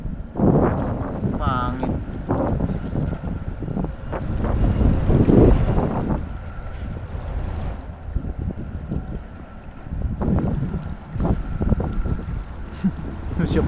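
Strong wind gusting over a boat on the water, buffeting the microphone in uneven roaring bursts, with brief voices talking over it.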